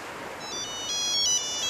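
A phone ringtone chimes in a bright, repeating electronic melody, close and clear over windy background noise in Stockholm's Slussen area.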